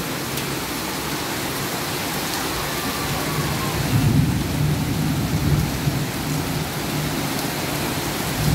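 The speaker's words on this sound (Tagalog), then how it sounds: "Slanting ang bagsak ng ulan." Heavy, slanting rain falls in Manila in the Philippines, a steady close hiss and roar. A low thunder rumble swells midway, and no one speaks.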